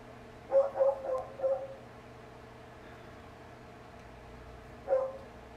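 A dog barks a few times nearby, a quick cluster of three barks followed after a pause by one more, against a steady low indoor hum.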